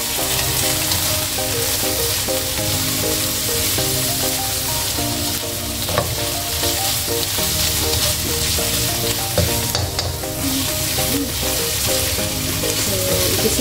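Garlic, onion and shredded chicken sizzle in a hot pan for a cabbage stir fry, a continuous loud frying crackle with occasional scraping stirs and clinks of a utensil.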